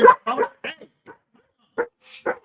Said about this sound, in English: Yeah, even Dakota, the dog is calling you out on your bullshit.